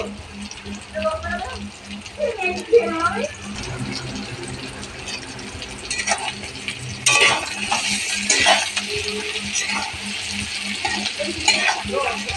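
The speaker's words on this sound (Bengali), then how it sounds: "ভাজা আলুগুলো দিয়ে আরেকটু ভাজতে থাকবো।" Potatoes and onions fry in a pan for a prawn malai curry. There is a constant sizzle with scraping and clinking as a spoon stirs, and a voice speaks briefly near the start.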